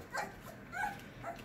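A young puppy gives three short, high whimpering yelps spaced about half a second apart, faint and close, with no voices.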